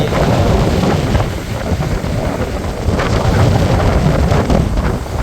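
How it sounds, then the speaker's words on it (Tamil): Rough, storm-churned sea waves surge against the shore at Colombuthurai in Jaffna during a cyclone, a loud, continuous roar heavily buffeted by strong wind gusting on the microphone, with no voices. "இப்படி அலை அடிக்குது பாருங்க."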